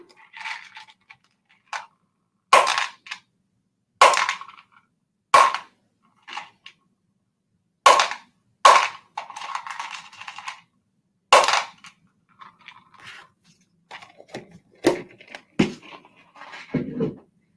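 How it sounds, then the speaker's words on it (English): Small hard objects drop and click sharply onto a surface in scattered bursts, some louder, some faint, with pauses between. "Maybe these little dots remind you of dropping some beans or rice."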